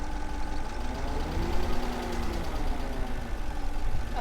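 A Porsche Cayenne engine idling close up with a low, regular ticking knock under a steady rumble, suspected bore scoring, running continuously without speech.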